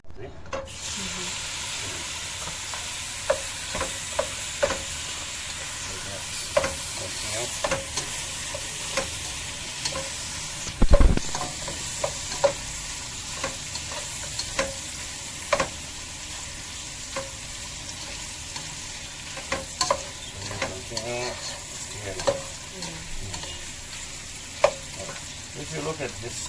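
Butter shrimp frying in a pan at home, a steady close sizzle with repeated stirring clicks and one sharp knock, continuing for a long stretch with faint background sounds.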